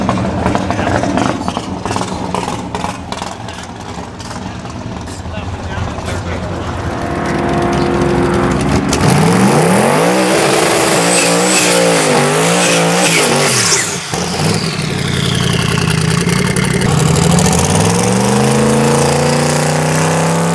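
Chevrolet Nova drag car making a pass down the track: loud, continuous engine roar rising and falling in pitch as it accelerates and lifts, with a faint voice early on, heard from nearby.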